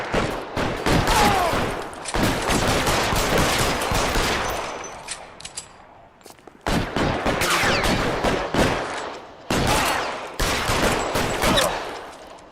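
Gunfire in the video game L.A. Noire, with loud, dense volleys of shots in several long bursts broken by brief lulls.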